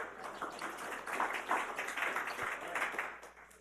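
An audience claps at the end of a conference event, a steady, moderate wash of many hands heard from the middle of the room, continuous and even without voices.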